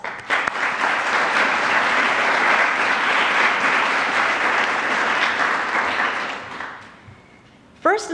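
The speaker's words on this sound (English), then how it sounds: "big round of applause" A large audience at a medical advocacy keynote breaks into sustained, dense applause lasting about seven seconds, then fading out before a brief renewed burst at the end.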